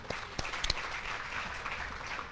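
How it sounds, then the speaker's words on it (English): Audience applause at a guide dog class graduation ceremony, a steady wash of clapping from a seated crowd with a few sharper claps near the start, moderately distant and fairly quiet, no talking over it. "Big round of applause for them."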